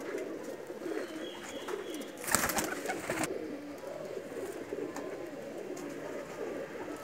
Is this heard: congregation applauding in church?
no